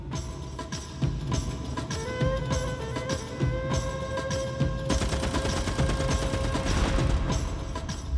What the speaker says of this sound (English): He watches the dervishes charge, and the Maxims on the gunboats open fire.